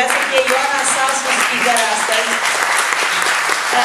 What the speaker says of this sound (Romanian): vreau să-l aplaudăm pe Claudiu și să-i mulțumim